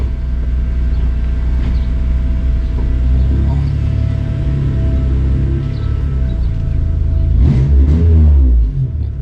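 A Toyota Celica engine held at a steady loud rumble, then briefly blipped on the throttle with a sharp rising rev near the end before settling back.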